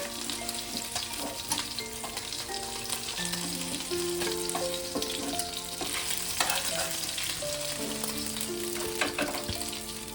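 Fasha fish fry in hot oil in a pan, a loud, steady crackling sizzle with occasional stirring, running under background music throughout.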